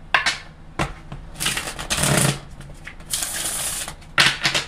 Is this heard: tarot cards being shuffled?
yes